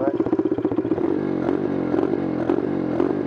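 A rough-running engine stutters in a fast irregular chug, then settles into an uneven, lumpy idle with periodic hiccups, close and fairly loud.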